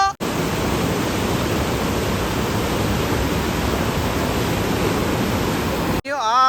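A flooded Hiran river surges past in a loud, unbroken rush of turbulent water that fills the whole stretch and stops abruptly near the end.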